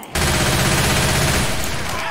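Rapid automatic gunfire in Left 4 Dead 2, a loud continuous burst of shots that starts abruptly and runs for about two seconds.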